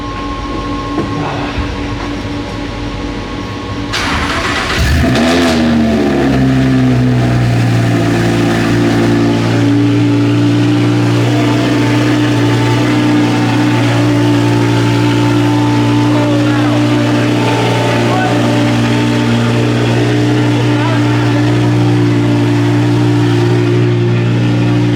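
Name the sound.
car engine starting and revving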